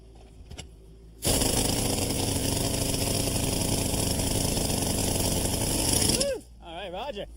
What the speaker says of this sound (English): We're going to use the jackhammer to drive these in and split this rock.